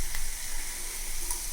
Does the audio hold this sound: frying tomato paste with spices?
yes